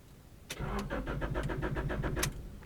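An old car with 300,000 miles cranks over in a quick rhythmic series of starter pulses before catching, close and loud with no talk.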